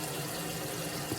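Tap water running steadily into a kitchen sink while something is rinsed off by hand during cooking, a soft continuous splashing hiss with no voices.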